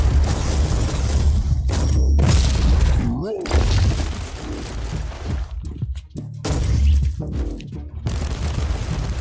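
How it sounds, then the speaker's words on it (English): Marauder bombers drop a bombardment wave in a Warhammer 40k video game, giving loud booming blasts and bursts of gunfire one after another under game voices and battle noise. "The Marauder bombers are launching a second wave of bombardments"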